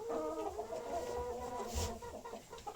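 Hens in a farmyard cluck steadily and close by while waiting to be fed, their layered calls continuous, with a brief thump partway through.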